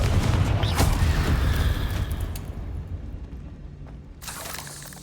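A Confringo blasting-spell explosion in the Hogwarts Legacy video game bursts out as a loud, broad rumbling blast that slowly fades over a couple of seconds, followed by a smaller burst near the end.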